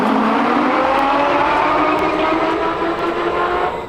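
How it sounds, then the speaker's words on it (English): The Falcons Flight roller coaster fires its third launch as all the stators kick in. A loud, continuous mechanical roar carries rising whining tones through it, holding strong before easing slightly at the end. "all of the stators on this third launch finally kick in and deliver a thunderous roar of power"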